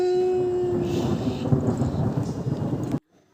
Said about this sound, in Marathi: आज अचानक पाऊस सुरू झाला